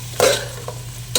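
Zucchini (koosa) sautéing in oil while being stirred, with two sharp scraping strokes of a utensil against the pan over a low continuous sizzle, close and fairly loud.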